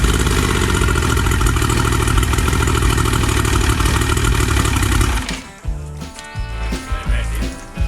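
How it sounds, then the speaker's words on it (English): An outboard boat motor runs steadily and loudly, then cuts off abruptly, leaving irregular clattering and knocking sounds afterward. "here is my motor that came with the boat"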